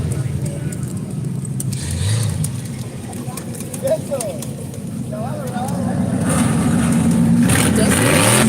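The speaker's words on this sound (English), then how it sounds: "Old F-150. Roadster kind of. Sounds really nice." An old Ford F-150 truck engine rumbling and revving at a nighttime rod run, a loud continuous low drone that swells toward the end, with people chatting over it.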